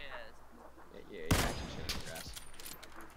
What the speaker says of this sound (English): I missed the shot.